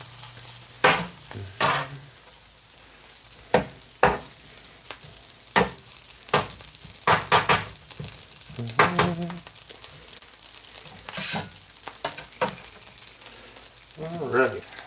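Sweet chili pork fried rice being stir-fried in a flat pan used like a wok, with steady sizzling broken by repeated scraping, tossing and stirring clatters, close and fairly loud, with no talking.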